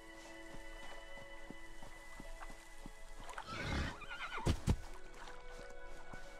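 A synthetic horse whinny in the video game Citadel: Forged with Fire rises over a quiet game soundscape with steady ticking, followed by a couple of sharp thuds.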